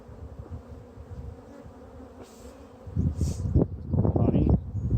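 Bees in an opened hive give off a close, steady buzzing hum that swells louder and busier toward the end, with brief rustling and handling noises mixed in.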